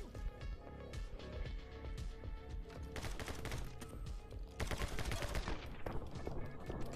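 Rapid, dense video-game gunfire, bursts of sharp overlapping shots firing nearly nonstop and growing more intense toward the end.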